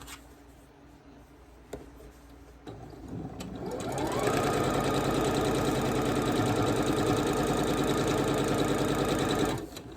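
A sewing machine stitches a quilt indoors, starting after a few seconds of quiet room sound and then running steadily at a fast, even rhythm up close until it stops just before the end.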